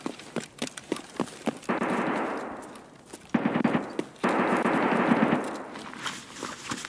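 Gunfire in Escape from Tarkov, with sustained loud bursts of rapid automatic fire in two long strings, preceded by several separate sharp single shots and followed by a few scattered shots.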